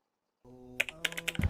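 Keystrokes on a computer keyboard while typing a Google search, a quiet start giving way to a quick irregular run of close, crisp clicks and taps.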